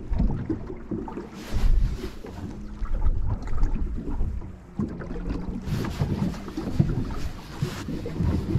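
A motor boat out fishing on a reservoir in a storm rides rough waves, with low engine rumble, hull thumps and splashing, and gusting wind noise across the mic.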